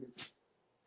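A single short, sharp sneeze bursts out close by, then quiet.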